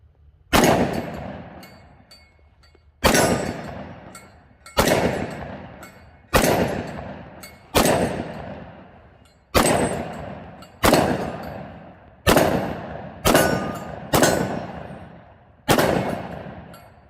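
XDM Elite 10mm pistol firing hand loads, eleven loud, sharp shots at slow, slightly uneven intervals, each with a short ringing decay outdoors.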